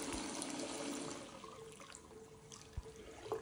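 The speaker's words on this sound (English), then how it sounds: "open the hot tap. You'll get lots of water come out" Water gushes steadily from an open hot tap on a basin while an unvented Tribune 150-litre cylinder is drained for re-pressurising its expansion vessel, a continuous close rushing flow with a few faint knocks.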